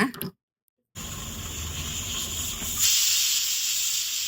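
A pressure cooker cooking overnight-soaked white chickpeas lets out a steady, loud rush of hissing steam. It follows a brief silent gap and swells stronger toward the end, with no voices.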